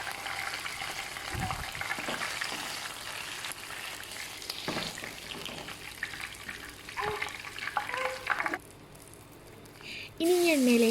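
Prawns fry in hot oil for a Payyoli-style prawn fry, sizzling and bubbling steadily at close range under a voice talking, with a few stirring clatters and a brief lull near the end.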